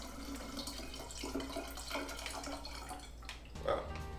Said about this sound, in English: I'm gonna use filtered water from our Brita.